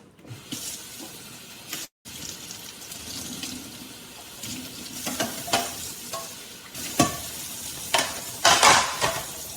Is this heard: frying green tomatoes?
yes